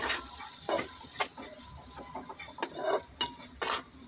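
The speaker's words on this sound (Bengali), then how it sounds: "ভালোভাবে মিশিয়ে খুন্তি দিয়ে নেড়ে নেড়ে কিছুক্ষণ কষিয়ে নিতে হবে" A spatula scrapes and knocks against a pan while potatoes and lentils are stirred together for a lentil dish, irregular close clacks and scrapes with soft sizzling between them.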